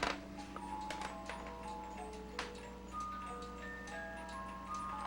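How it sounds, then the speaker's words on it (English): Cuckoo clock ticking indoors, its faint steady tick-tock sounding at a regular rhythm under soft background hum and a few quiet tones. "this is the cuckoo clock."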